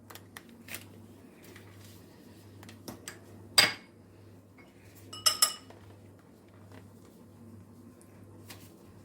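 A small spoon stirs baking soda into a homemade teeth-whitening paste, making a few sharp metallic clinks and scrapes against the container, with two louder bursts of clatter over a quiet background.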